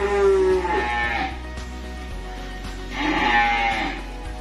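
Young Limousin cross calves at a livestock dealer in Kediri, East Java, let out two loud, drawn-out bleating moos close by, with a quieter gap of shuffling and background noise between the calls.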